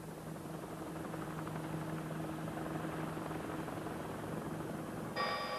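A NOTAR helicopter flies sideways to the right at about 50 km/h, a steady loud rotor drone with a low hum, alone, and a brief bright tonal chime near the end.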